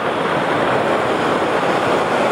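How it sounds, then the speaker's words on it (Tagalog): Large waves break at sea off Calaguas Island during a fishing trip, a loud, continuous roar of surf mixed with wind buffeting the microphone, with no talk. "Malaki ang alon."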